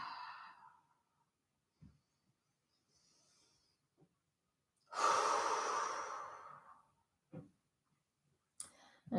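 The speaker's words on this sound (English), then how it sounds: "Couple clearing breaths." Clearing breaths during a yoga session: a long, audible exhale stands out near the middle, preceded by a short breath and followed by softer breaths and faint clicks, close and otherwise quiet.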